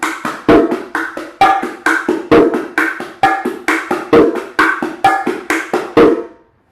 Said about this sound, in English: you're going to let your fingers bounce off of the drum just a little bit